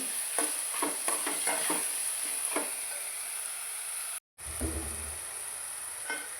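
Garlic and ginger sizzle steadily in a hot pan while a spoon scrapes and stirs in quick, repeated strokes, close and continuous, with a brief dropout near the end.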